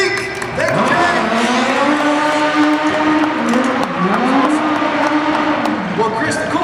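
A stunt-show car driving past at a live motor show, its engine revving loud and near with rising and falling pitch, while an announcer talks over the sound.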